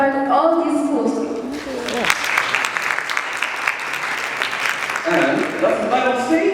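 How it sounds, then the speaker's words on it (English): An audience at the opening ceremony of a film festival at Al-Akhawayn University in Ifrane claps loudly for participating schools, a full burst of applause that swells in after a speaking voice and gives way to voices near the end. "hear you clap hard all these schools."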